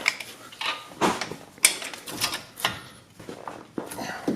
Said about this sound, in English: we're going to pry this caliper off of this bracket